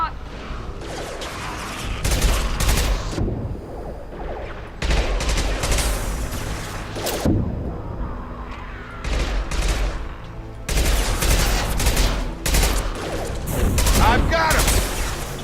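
Bursts of gunfire in the video game Mass Effect 2: loud, rapid volleys of shots in repeated clusters separated by brief lulls, with some voices in between.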